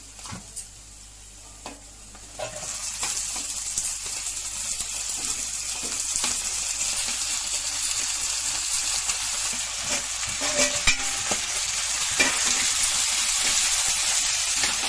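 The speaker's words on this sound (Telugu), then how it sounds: "ఇప్పుడు మటన్ వేసేస్తాను" Mutton added to a pan of fried small onions and curry leaves, sizzling loudly and steadily while being stirred, with scraping and clinks of the spoon.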